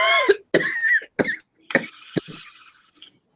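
A person coughing after vaping, several harsh, close coughs in quick bursts with short pauses, trailing into throat clearing and quieter rasps.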